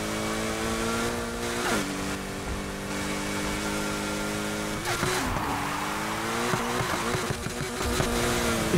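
Video game car racing through a curve on nitro, its engine droning steadily with rising and falling pitch sweeps as it revs, shifts and strains through the bend, loud and continuous with no talk.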